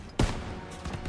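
A single heavy burst of covering gunfire in the Call of Duty: WWII campaign, a loud sharp blast followed by scattered quieter shots and battle noise.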